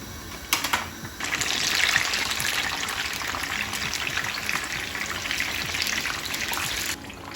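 Eggplant slices sizzle steadily in hot oil for a karnıyarık dish, a dense, continuous crackling hiss close by with a few sharper pops near the start, running on alone without talk until it cuts off near the end.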